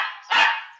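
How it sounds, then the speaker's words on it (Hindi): A puppy gives a single short, sharp bark, close and clear, rising out of a softer whine-like tone with no voices around it. "और वहां पिल्ला बोल उठता है।"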